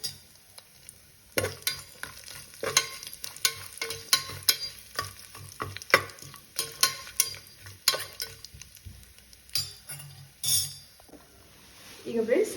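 Cashews and kasuri methi hitting a hot pan for mushroom biryani, with bursts of sizzling frying and repeated clinks and scrapes of a stirring utensil against the pan, a voice talking intermittently over the cooking.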